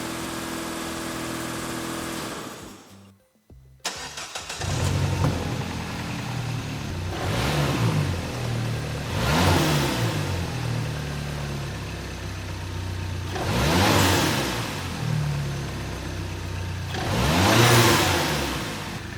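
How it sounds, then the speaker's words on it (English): A Peugeot RCZ engine with an exhaust leak idles roughly, then is revved several times in rising and falling surges, close by, with a brief dropout near the start. "I think the engine itself sounds pretty good and healthy"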